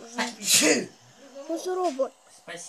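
One sharp, loud sneeze bursts out close by, with a voice speaking briefly before and after it.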